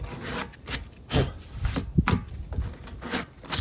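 Rough edges of a hole-saw cut in a rainwater collection container being cleaned up by hand for a uniseal fitting, heard as close, repeated rasping and rubbing strokes in an irregular rhythm.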